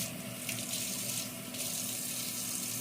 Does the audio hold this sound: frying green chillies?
no